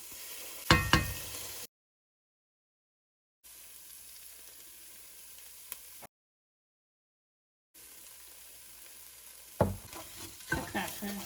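Ginger garlic paste and spices frying for a coconut chickpea pumpkin curry, a soft steady sizzle with louder bursts of stirring at the start and end, broken by two silent gaps.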